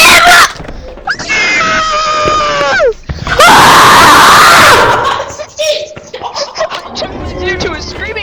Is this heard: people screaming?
yes